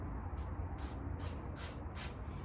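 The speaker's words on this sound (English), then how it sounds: "Now I do have electrical cleaner, which sometimes it does work. So when we take it off, we'll give it a nice little spray." Electrical cleaner hisses from a spray can onto starter solenoid wires on a Triumph Thruxton 900 motorcycle, in about five short bursts over a steady low background hum.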